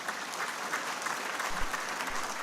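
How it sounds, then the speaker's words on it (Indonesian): Audience at the LDII 2023 national working meeting applauds steadily, a dense even wash of clapping from a large crowd with a few louder claps standing out. "boleh beri tepuk tangan"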